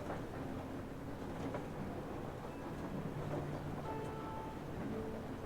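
Steady low rumble of a train rolling along in Metro Exodus, a continuous loud drone with faint tonal whines and clanks layered over it, no talking.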